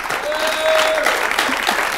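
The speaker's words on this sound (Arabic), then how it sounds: "زيدوا لنا تصفيقة خاصة" An audience applauds warmly for Iskander, a boy with trisomy, on a television show about including children with Down syndrome: dense, steady clapping from a crowd, with a faint voice underneath.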